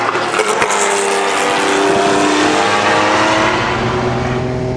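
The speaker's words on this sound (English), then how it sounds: "The wastegate sounds amazing." A Porsche 962C turbocharged race car engine roars loudly and steadily at high revs, with turbo wastegate chatter in the opening moments, heard close up with no talking.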